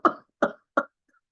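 A voice imitates a quick run of three sharp, harsh paroxysmal whooping cough coughs in succession, followed by silence.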